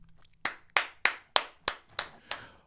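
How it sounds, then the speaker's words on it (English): A round of applause on a morning show, heard as seven sharp, separate hand claps spaced evenly and fairly close, with a short quiet lead-in and no talking. "I want to give y'all a round of applause."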